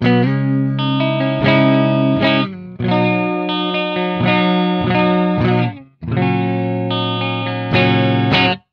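Electric guitar, a Les Paul copy on both pickups, strummed in sustained chords with a warm, full tone, several bursts separated by brief pauses, loud and close with no talking.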